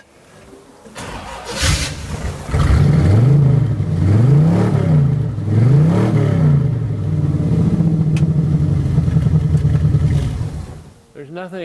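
A 1951 Chevrolet five-window pickup engine running, with a steady close mid-pitched rumble and a few wavering rises in revs, loud and sustained for most of the stretch before cutting off near the end.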